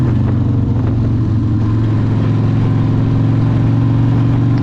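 Loud, steady rumble of a 1995 Harley Sportster Evo 1200 V-twin running up close, its throaty low-end pulse holding constant throughout with slight revving surges.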